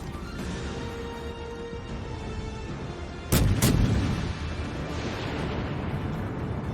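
Slow artillery rounds firing, two sharp heavy blasts in quick succession that ring out over a continuous roaring, rumbling background.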